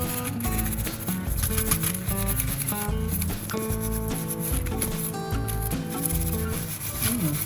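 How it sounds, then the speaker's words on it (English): A pot bottom being scrubbed clean after treatment with baking soda and vinegar, with continuous close, rhythmic scraping strokes and gritty rubbing that stays loud throughout. "Now I will use this to scrub."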